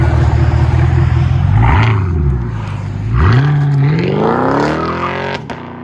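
Chevy Camaro SS convertible, a 2011 model with a 6.2-liter V8 and Flowmaster Outlaw exhaust, burbles at idle and then revs twice in rising bursts, loud and close, with a deep rumbling note between the blips.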